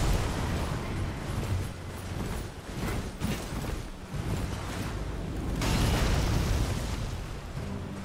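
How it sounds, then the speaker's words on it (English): Cannon fire rumbles through a boss fight against Margit in the video game Elden Ring, heavy booming blasts and a dense low roar layered with game noise over eight seconds, with a strong surge past the midpoint. "Take a cannon firing?"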